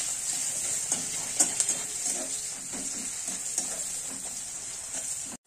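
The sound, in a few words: onions frying in a pan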